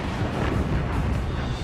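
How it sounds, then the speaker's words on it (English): A battleship's 14-inch guns firing a broadside, heard as a dense, continuous roaring rumble of heavy gunfire, loud and sustained with no distinct separate shots and no talking. "We were firing broadside."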